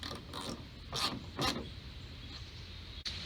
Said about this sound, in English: Reinstall the two 8mm head size bolts.